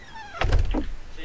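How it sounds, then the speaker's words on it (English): A metal door opening in the survival game Rust, a short mechanical thunk and slide lasting under a second, fairly close and loud, with faint background sounds around it. "Like, open that door."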